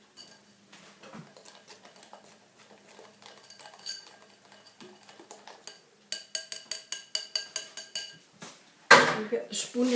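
A spoon stirring pancake batter for dropped scones in a bowl, quiet scraping at first, then a run of sharp rhythmic clinks against the bowl, ending in louder sloshing.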